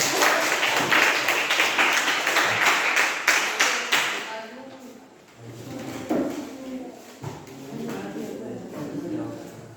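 An audience applauds for a presenting student group in a classroom, steady clapping for about four seconds that fades as a voice and room noise take over.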